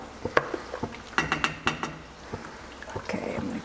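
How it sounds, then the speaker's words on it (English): A pot of basmati rice being stirred with light clinks and scraping knocks against the pot in a quick irregular run, fairly close, without talk. "Give it a stir."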